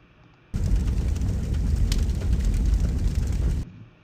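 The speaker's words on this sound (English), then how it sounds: "So that sounds like a fire, which would be a great sound effect for our sun" A burning fire sound effect played back alone as a steady, dense roar and crackle lasting about three seconds, starting abruptly and fading quickly at the end.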